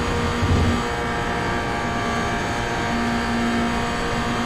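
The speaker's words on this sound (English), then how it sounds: "Sounds fantastic on board, doesn't it, this car?" Onboard engine of a GR86 race car in a racing game at Silverstone, heard as a steady, close, loud drone holding an even pitch throughout, with no talk.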